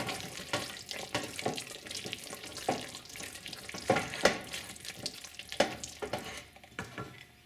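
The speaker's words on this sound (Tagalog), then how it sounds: "Sisiguraduhin lang natin na mahalo mabuti yung sugar dito sa mixture." Sugar being stirred into a mixture: a steady run of rhythmic scraping and swishing strokes, each a short gritty sweep, repeating at an even pace close by with no talking.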